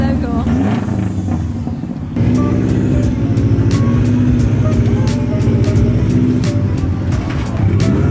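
A Subaru WRX engine runs loudly and steadily throughout, a deep rumbling idle that steps up in intensity after the first couple of seconds with light revving; people talk over it at times.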